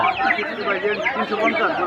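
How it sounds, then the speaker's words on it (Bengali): Several chickens at a poultry market cluck busily and close by, overlapping throaty calls in a dense, continuous chorus, with voices mixed in. "এই যে ওনার কাছে আছে টাইগার মুরগি।"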